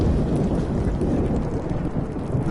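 A thunderstorm in the game Life is Strange, with steady loud rain and rumbling thunder filling the scene alone, broadband and continuous without pauses.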